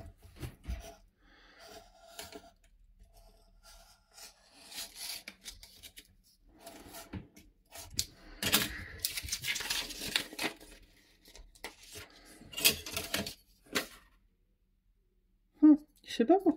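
A circle cutter blade scraping through paper as the sheet is turned by hand, producing intermittent rasping, rubbing and crinkling strokes of varying loudness, with a quiet pause near the end and a person speaking softly at times.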